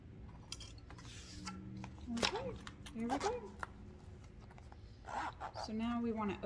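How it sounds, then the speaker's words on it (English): A zipper on a sewn fabric pouch is pulled open halfway in several short, close rasping strokes, with a voice talking between and over them. "So now we want to open up that zipper halfway"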